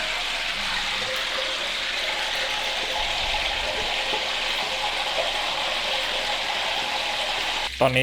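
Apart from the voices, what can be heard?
frying Thai fish cakes in hot oil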